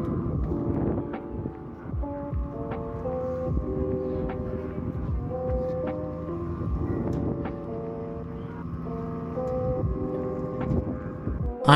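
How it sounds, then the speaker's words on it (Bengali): Strong wind buffets the open deck of a river launch travelling from Barishal toward Noakhali, a steady roar over the low engine hum, with tonal pings and hooting notes scattered throughout. "আর দেখো এখানে হাওয়া কত জোরে লেগেছিল।"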